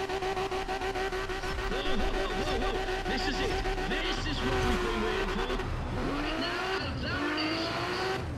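A tuned Nissan Skyline race car of about 1500 hp in the video game Need for Speed ProStreet roars at very high speed, its engine droning steadily with shifting pitch and tire squeal, while someone talks over it.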